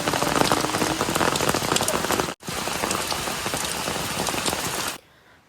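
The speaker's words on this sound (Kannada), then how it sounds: "ಮಳೆ ಕೂಡ ಜೋರಾಗಿ ಸ್ಟಾರ್ಟ್ ಆಯಿತು" Heavy rain pours down at Sahasralinga near Sirsi, Karnataka, in a dense, continuous hiss, broken by one brief gap, then cuts off near the end.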